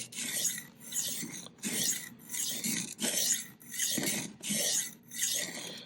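A knife is sharpened freehand on a whetstone in steady back-and-forth strokes, about seven smooth, gritty rasping passes at an even rhythm, close and clear with no talk.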